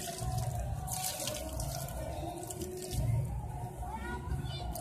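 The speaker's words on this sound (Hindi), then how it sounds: "ऐसे पानी डाल देना आपने" Water is poured into a pot holding a rooted chrysanthemum cutting, a steady splashing trickle into soil that runs throughout while someone talks over it.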